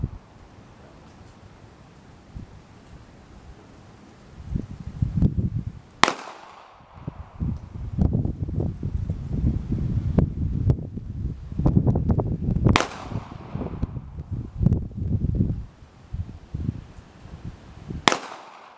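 Three sharp rifle shots crack at an outdoor shooting range, spaced several seconds apart, while steady gusting wind roars and buffets throughout, with no talking.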